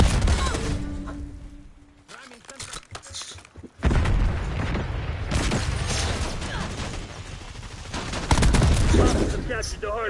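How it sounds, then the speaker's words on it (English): Shotgun blasts and other gunfire in a Call of Duty match ring out in dense, loud bursts with booms, a brief lull, then heavy firing resumes, with voices mixed in. "Enemy's got a shotgun."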